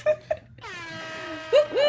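Air horn sound effect imitated by a voice: short honks followed by a drawn-out falling wail, with brief laughter and speech around it.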